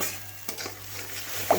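Onion frying in a pan for prawn posto, a soft continuous sizzle with a couple of brief utensil scrapes and a small clink near the end, close and fairly quiet.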